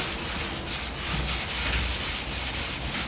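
A sanding block rubs over the body of a Porsche 356 in steady back-and-forth strokes, a loud, close, rhythmic scraping hiss that repeats about every third of a second with no talking.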